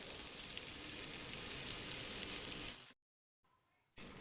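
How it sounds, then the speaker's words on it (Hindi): Beef chapli kababs frying in a pan make a dense, even sizzle close up for about three seconds. The sound then cuts off abruptly, leaving near silence and a brief faint hiss before the sizzle returns. "तो इसी तरह एक एक करके हम सारे कबाब फ्राई करते जाएंगे"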